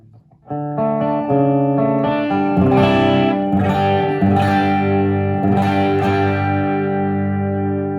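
Electric guitar played through a Nobels ODR overdrive pedal, stacked with a booster: a lightly broken-up, sustained chord ringing out, then further strummed chords with crunchy harmonic grit, loud and close with no talking.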